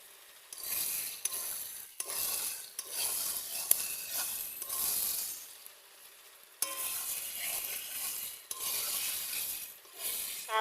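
Chicken meat with a little water is stirred in a hot pan, giving close, repeated scraping strokes over a continuous bubbling sizzle.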